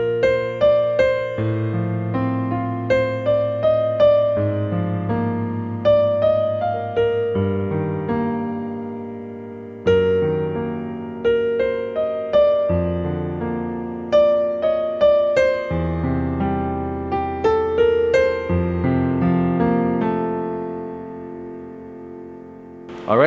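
Piano played with both hands works through the first line of a stanza of a song, a melody of struck notes over lower chords, steady and clear with no talk.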